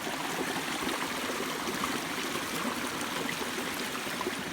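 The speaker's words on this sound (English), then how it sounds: "We found this like little waterfall, and we thought it was really pretty" Water flows steadily over a small waterfall in a creek, a close, continuous splashing rush with a soft trickling texture and no voices.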